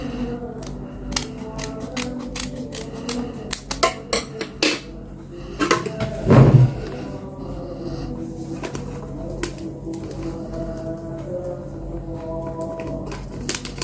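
Ingredients go into a cooking pot with a run of sharp clicks, taps and scrapes, one louder clunk of a utensil against the pot midway, then quieter rustling with no talking.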